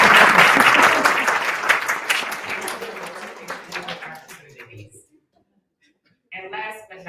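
Audience clapping for county officials at a Democratic women's gubernatorial forum, loud at first and then tapering off into scattered claps and silence, before a voice picks up again.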